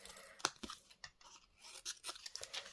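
Paper being cut for a handmade card makes a quick series of crisp, close snipping and rustling sounds, faint and irregular, with short pauses between cuts.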